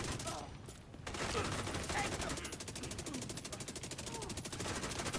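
Slingshot SMG in The Division 2 fires a long, rapid, even burst of automatic gunfire that runs almost without a break, with a brief pause near the start and quiet game sounds underneath.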